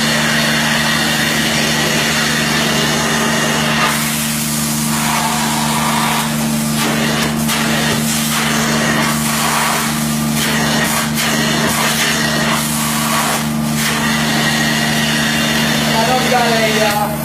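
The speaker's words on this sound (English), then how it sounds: "we're ready to extract the fringe and clean it up, so let's extract it and let's see what it looks like" A carpet extraction machine running on an oriental rug fringe gives a constant loud motorized whine and suction roar, with scraping and wet swishing strokes layered over it throughout.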